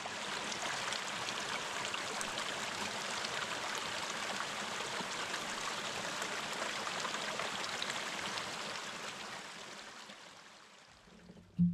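Creek water flowing in a canyon near a waterfall on the Rocky Mountain Front, a steady hissing rush of water that fades slightly toward the end, with a brief bump at the close.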